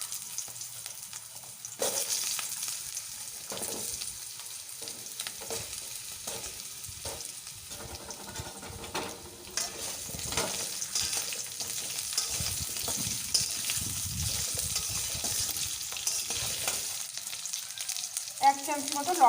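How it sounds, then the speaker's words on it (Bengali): Potatoes frying in hot oil with a whole dried red chilli and a bay leaf, a steady close sizzle with occasional stirring scrapes and clinks, no voices. "এবারে আলুগুলো দিয়ে দিচ্ছি।"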